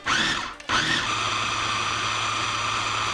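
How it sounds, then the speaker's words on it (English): Blender processing roasted jalapeños and other salsa ingredients, a loud whirring motor that halts briefly near the start, then restarts and runs steadily close by with no talk. "now we can take it to a blender or a processor and we can process to our desired consistency"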